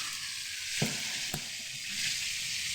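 Fish frying in a pan outdoors beside a house, giving a steady, loud crackling sizzle with a couple of sharp pops and no talking.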